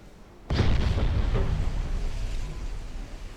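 Heavy naval guns in a World War II-style ship battle game boom against an enemy destroyer, one sharp loud blast at the start followed by a long rumbling roar that slowly fades.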